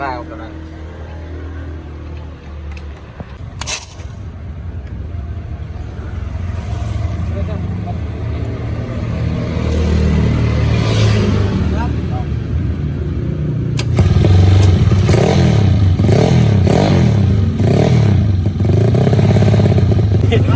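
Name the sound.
Honda Scoopy motorcycle with 58.5 mm stroke-up engine revving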